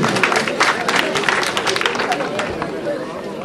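Audience at a school excellence-day ceremony applauds, a dense steady clapping with crowd murmur, fairly loud and continuous, with some talk and chatter mixed in.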